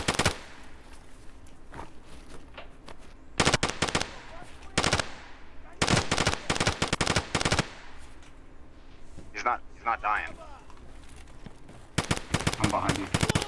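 Bursts of SKS rifle fire in Escape from Tarkov ring out in clusters of rapid sharp shots, loud and close, separated by quieter stretches with brief scattered sounds.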